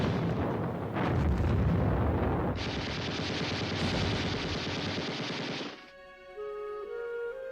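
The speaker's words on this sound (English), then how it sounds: "For 2 weeks, the Japanese bombed Corregidor." Japanese bombing of Corregidor roars with continuous explosions and rattling gunfire, a dense loud barrage that gives way to a fainter, tonal, whining sound at the end.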